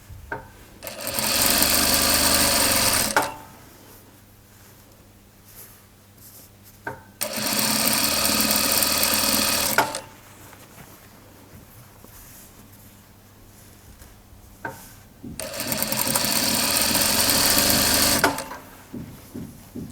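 A sewing machine stitches a hoodie in three long, loud runs of steady mechanical whirring, each lasting a few seconds and separated by quieter pauses with light fabric handling.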